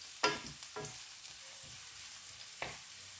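Garlic and onion frying together in a pan, giving a soft sizzle with a few sharp stirring scrapes and clatters spaced apart, fairly quiet and close, with no talking.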